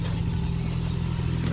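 A portable tyre air compressor plugged into the cigarette lighter socket of a Ford KA runs with a steady, loud mechanical drone and even pulsing hum, close by and uninterrupted.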